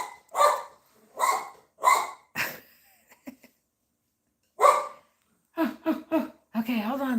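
A dog barks in several sharp, separate bursts with pauses between, fairly close by indoors, and a person talks briefly at the end.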